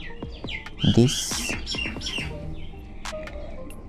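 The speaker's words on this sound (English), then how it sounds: "Why the bird is disturbing me?" Small birds chirp and tweet in quick, bright bursts close by, while a person speaks briefly over them during a 3D rigging tutorial session.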